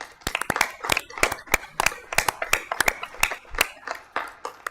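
At a city commission meeting, a few people in the chamber clap in sparse, uneven bursts, each sharp clap distinct and fairly close, with no talking over it.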